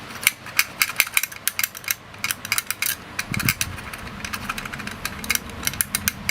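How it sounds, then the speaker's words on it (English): A Lockwood 001 lock latch operated with its key, giving rapid clicking and ratcheting mechanical taps in quick irregular bursts, close up. "turn it the other way, pulls the latch back"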